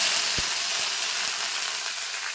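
Mustard seeds, split dal and curry leaves sizzle in hot oil, with a steady broadband crackle and a few sharp pops early on, close and fairly quiet, no talking.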